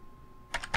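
Two quick pairs of computer keyboard key presses, the G key tapped twice while working in Blender 3D software, crisp close clicks after a short quiet pause.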